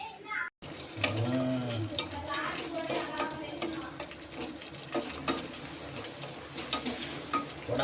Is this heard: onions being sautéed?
yes